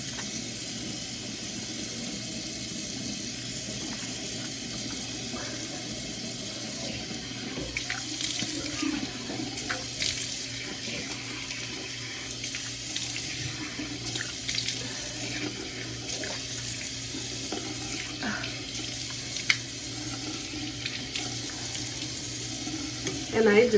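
Tap water runs steadily into a sink while someone washes their face, a continuous hiss that stays even and fairly close for the whole stretch.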